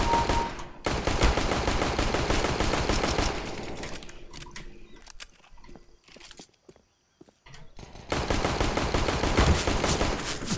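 Gunfire in CS:GO comes in heavy rapid bursts of automatic fire, loud and sustained, dropping to a quieter stretch with scattered shots before a final long burst.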